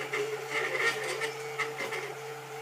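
A Tevo Tarantula 3D printer printing ABS filament, giving a steady close mechanical hum with shifting stepper-motor whines and a constant low drone, heard alone without talk.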